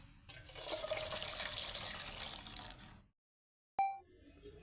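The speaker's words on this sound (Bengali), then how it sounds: "এবার দুধটাকে আমি একটা স্টিলের গামলার মধ্যে ঢেলে দিলাম" Milk pours steadily into a steel bowl for about three seconds, a close, even splashing rush, then stops, followed by a short clink and faint drips.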